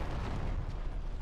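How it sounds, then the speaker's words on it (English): Video game artillery explosion, a dense continuous low rumbling roar filling the whole moment, loud and alone without talk. "Let's see how good the explosion is."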